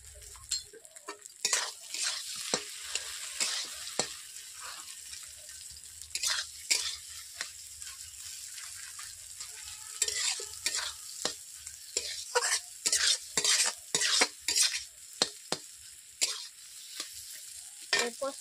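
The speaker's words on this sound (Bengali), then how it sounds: "মটর আলু সেদ্ধকে আমি হাতে মেখে নিয়েছি, মেখে আমি কড়াইয়ের মধ্যে দিয়ে দিচ্ছি" Mashed boiled peas and potato stir-fried in a kadai, with a steady sizzle and repeated scraping strokes of a spatula against the pan, metallic clinks bunching into quick rhythmic bursts toward the end.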